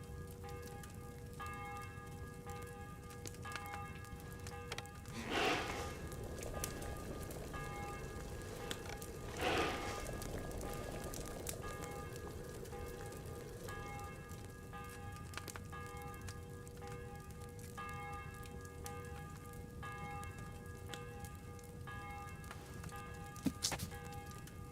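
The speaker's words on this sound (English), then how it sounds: "The 11th toll of the bell, the last before the execution starts." Church bell tolling in Kingdom Come: Deliverance II, a few widely spaced strokes ringing out over steady ambient game background with a lingering hum, one stroke near the start and another around ten seconds in.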